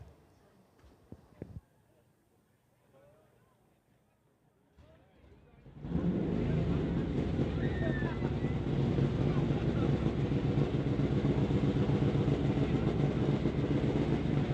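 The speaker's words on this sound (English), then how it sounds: "So here is Jim Schellenberg now, the third of our Top Fuel Harleys" A Top Fuel Harley drag racing motorcycle erupts into a loud, sustained, harsh roar after several quiet seconds of faint background noise and light thumps, continuing steadily to the end.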